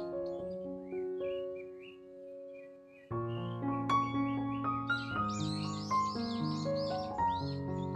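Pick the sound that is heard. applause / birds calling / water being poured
birds calling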